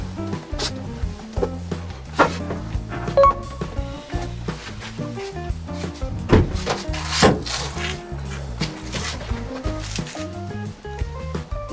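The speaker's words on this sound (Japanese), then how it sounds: "はい、じゃあこれでね、内張り剥がしをやっていきます。" Plastic clips snap and creak as a car's back door interior trim panel is pried off with a trim removal tool, irregular knocks, scrapes and clicks close up with no talking.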